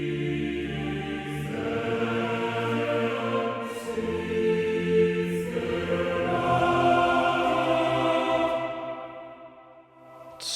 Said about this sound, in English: It's a choir of a couple of men and women